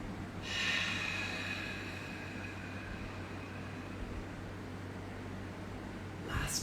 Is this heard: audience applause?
no